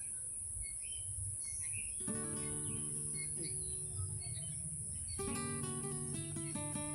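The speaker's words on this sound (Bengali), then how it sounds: "দেখো কদম ফুলের মধ্যে গিয়ে সব পাখিগুলো বসছে" Birds chirp and twitter among the branches of a kadam tree in flower, with a steady high insect-like whine throughout and brief bursts of louder tonal calls partway through.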